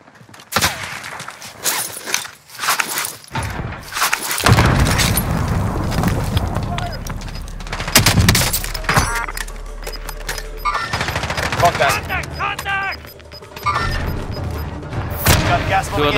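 Gunfire rattles through a Call of Duty Warzone quads match: rapid automatic bursts and heavy booms, some close and loud, keep up a dense, chaotic volley throughout.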